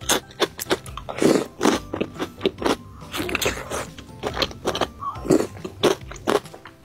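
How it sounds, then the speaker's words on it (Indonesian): Crispy pilus snack bitten and chewed up close, a run of sharp crunches in uneven bursts with short pauses between bites, loud and dry, with no talking. "Pilus ini tuh renyah luarnya, tapi dalamnya tuh lembut."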